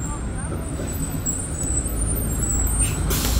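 Air brake hiss from a city bus in Queens, with heavy low engine rumble throughout and a brief bright burst of hiss near the end, under background talk.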